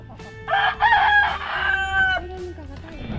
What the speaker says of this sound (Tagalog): Ganda ng manok oh.